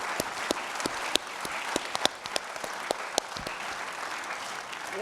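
An audience at a constitutional law event on impeachment applauds its scholars, with dense sustained clapping and scattered sharp individual claps rising above the steady wash.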